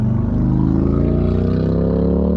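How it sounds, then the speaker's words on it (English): A loud motorcycle passes in town, a steady engine roar filling the whole stretch, a deep rumbling motor running close by without a break. "And a loud motorcycle"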